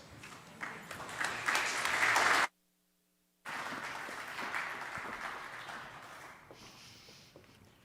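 Audience applause at a public speaking event, a dense wash of clapping hands that swells, cuts off abruptly for about a second, then resumes and gradually thins out.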